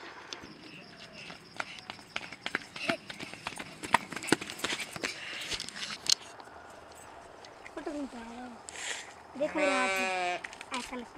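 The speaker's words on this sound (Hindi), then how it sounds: "तो ये देखो, ये हैं भेड़े यहाँ की" Sheep in an orchard area of Sangaldan bleat near the end after a stretch of clattering hoof-like knocks, the wavering bleats loud and close while someone talks.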